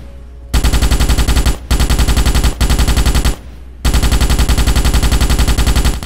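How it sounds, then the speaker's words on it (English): Three long bursts of rapid automatic fire from a Morita Mark II rifle in a Starship Troopers first-person shooter, each loud, dense volley cut by short gaps, with no talking. "Unlike the Marauder rifle, this Merida Mark II uses conventional ammo. It packs a lot more punch. Use it to destroy the armored targets."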